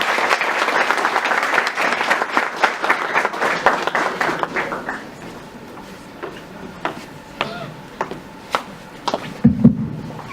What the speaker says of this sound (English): Let's welcome sir with a huge round of applause,